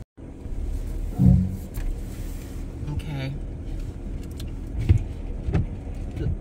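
A van engine strains to pull out of a slippery driveway during a storm, with a low steady rumble, a few louder thumps and short bursts, and a voice talking at moments.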